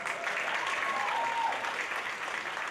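An audience at a graduation ceremony claps in a steady, sustained round of applause, many hands blending into an even wash heard from within the hall.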